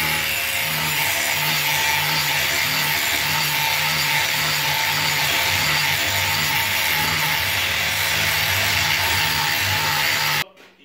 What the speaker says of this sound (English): You want to make sure you're always wearing safety goggles and ear protection when you're running a grinder like this.